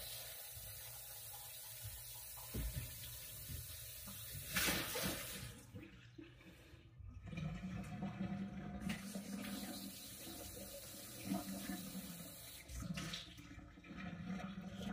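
Kitchen tap water running while an ice cream pot is washed, a steady close gushing splash with changing splatter and clanks as the pot is handled, no talking.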